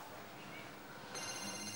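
A mobile phone rings in a courtroom TV show from 2006, its electronic ringtone entering partway through over background room noise and a faint murmur.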